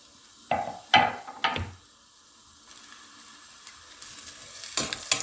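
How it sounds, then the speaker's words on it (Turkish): Onions and peppers drop into hot oil with a few sharp splattering bursts, followed by a quieter steady sizzle close by, as the vegetables for a Turkish green bean dish begin to fry. "Daha sonra yağın üzerine soğanımı ve biberlerimi bu şekilde ekliyorum."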